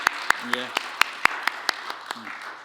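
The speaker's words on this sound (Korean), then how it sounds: "우리 박수로 한번 환영하겠습니다" Scattered individual claps ring out at a Korean church's Sunday service in London, about ten sharp hits at an uneven pace while someone speaks over them.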